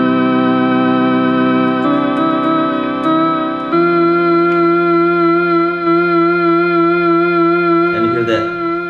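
Roland RS-09 organ/strings synth sustaining rich held chords with a wavering vibrato effect, loud and continuous, shifting to a brighter voicing partway through, with a brief noisy burst near the end.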